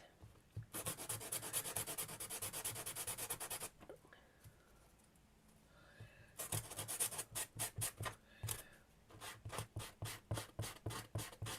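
Balsa wood edge sanded by hand for a miniature science-lab diorama, giving long broadband rubbing strokes, then a pause and a run of quicker, evenly spaced rasping strokes, close and fairly quiet.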